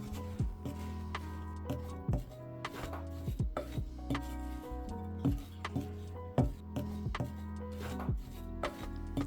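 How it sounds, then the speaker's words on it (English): A spoon stirs an oat and pecan crisp topping with melted butter in a bowl, producing a quiet, uneven run of clacks and scrapes with ringing bowl knocks, no talking. "I'm just going to go ahead and give that a good stir so that everything gets combined with the butter"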